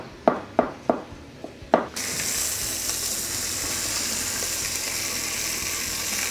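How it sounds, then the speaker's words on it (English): Mushrooms chopped on a cutting board with a knife, giving four or five sharp, evenly spaced chops, followed by a steady loud sizzling hiss. "what we need to do with the mushrooms is chop them up"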